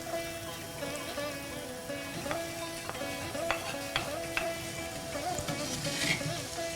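Figs stirred slowly in a frying pan after browning, giving a steady close sizzle with soft scraping strokes and occasional clinks throughout, no talking.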